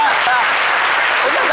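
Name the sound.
audience applause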